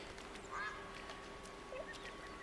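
Ducks quack faintly and sparsely in the hunting video game theHunter: Call of the Wild, a couple of short distant calls over a steady low ambient hiss.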